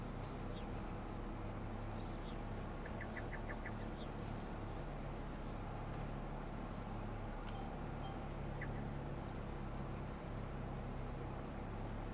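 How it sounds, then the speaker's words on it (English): Birdsong in a Farming Simulator 25 farm map, short chirps and a brief trill scattered over a steady low ambient bed, fairly faint and distant, with no talking. "I like hearing the birds."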